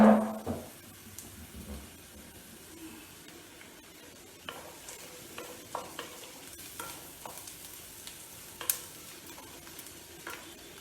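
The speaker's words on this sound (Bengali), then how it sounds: "পেঁয়াজটা ভাজা হতে হতে" Onion fries quietly in a pan, a soft, low sizzle broken by occasional spatula scrapes and light taps, with a louder clatter at the start.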